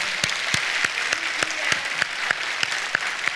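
A church congregation gives a round of applause for its members, a steady wash of many hands clapping with regular louder individual claps standing out, moderately close and without talk.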